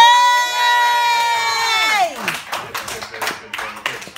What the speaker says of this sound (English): This Raya, give her a clap.